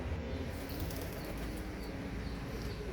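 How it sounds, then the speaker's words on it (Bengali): Soft, rapid fluttering of pigeon wings at a village pigeon coop, faint and fairly close, over a low background hum. "এগুলো সব কবুতর ডিম নিয়ে বসে বসে আছে"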